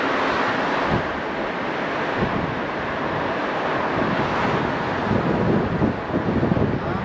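Strong wind rushes steadily past, a loud, continuous roar with occasional low buffeting gusts.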